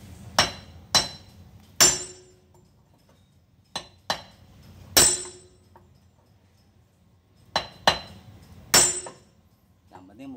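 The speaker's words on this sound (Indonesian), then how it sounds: "Saya bikin palu buat buka ini. Lalu kita pukul sekeras-kerasnya nih." A hammer strikes a truck's kingpin again and again to knock it out, ringing out as about nine sharp, loud metallic blows at irregular intervals with quiet gaps between them.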